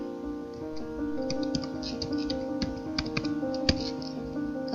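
Computer keyboard typing while entering data into a statistics program: a steady, close run of quick key clicks over a faint constant hum, with no talking.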